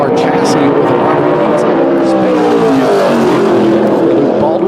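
A modified race car roars through a qualifying lap at South Boston Speedway, its loud engine note sliding in pitch as it passes close by, with a commentator talking over the noise.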